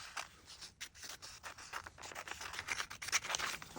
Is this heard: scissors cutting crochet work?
yes